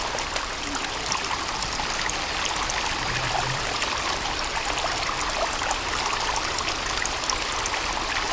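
Steady, loud rush of flowing water in Sons of the Forest while a container is refilled, a continuous broadband stream sound without pause and no voices over it.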